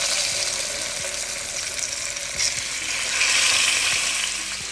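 Fish slides into hot oil seasoned with cumin, turmeric and chili, frying with a loud, steady crackling sizzle that swells slightly near the end, with no talk over it.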